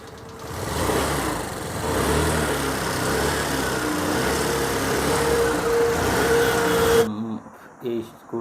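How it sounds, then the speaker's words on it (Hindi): A Hero Duet scooter engine runs after a clutch repair with a steady mid-pitched drone for about seven seconds, then cuts off, leaving a few brief quieter knocks. "ये स्कूटी हमारी स्टार्ट हो गई।"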